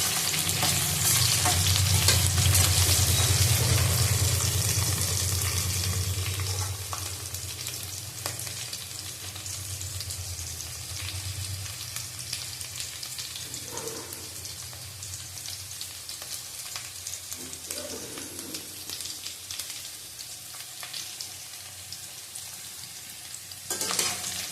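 Four green chillies sizzle loudly in hot oil in a pan while a Bengali drumstick, potato and poppy-seed dish is being cooked, with occasional stirring scrapes. The frying settles into a steady, slightly softer crackle.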